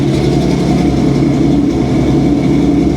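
A car engine idles fast just after starting, a loud, steady, unbroken mechanical drone with a low rumble, heard up close and alone.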